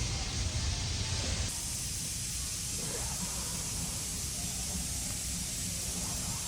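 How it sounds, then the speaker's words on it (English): Dollar Tree lubricant sprayed during a big bore build on a 2022 Harley-Davidson Road Glide Limited M8 114, a close, continuous hiss that drops in level after the first second and carries on steadily. "A little bit more of that Dollar Tree lube."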